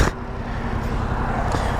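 Road traffic heard from a Yamaha MT-07 2022 motorcycle ride, a steady broadband rush of cars and engine noise with a thump at the start, fairly loud and continuous.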